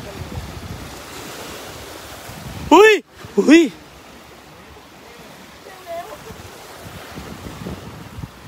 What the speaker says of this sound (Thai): โอ้โหคลื่นโคตรแรงให้ดู